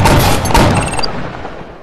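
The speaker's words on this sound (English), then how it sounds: "What the hell is wrong with this cannon?" Cannon blasts in the video game Flintlock Mayhem, a loud burst of booming shots at the start that fades into a decaying rumble.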